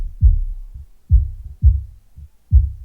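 Deep, boomy kick drum hits boosted with EQ, six thumps in a loose, syncopated pattern, heavy in the low end and playing alone.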